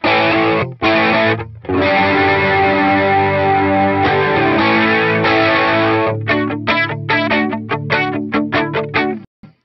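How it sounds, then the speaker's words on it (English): Electric guitar played through a HeadRush Gigboard distortion patch with the white boost and analog warmth settings, giving a slightly biting, sustained chordal tone with held notes, then choppy staccato strums near the end, loud and alone. "I'm going to go with distortion, but I'm going to only use the white boost, and I'm going to go with analog warmth, and that adds a little bit of bite"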